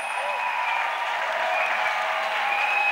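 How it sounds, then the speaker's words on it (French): Audience applause for Jesus at an evangelism meeting, steady sustained clapping from a crowd filling the whole stretch at even loudness. "First of all, let's clap for Jesus."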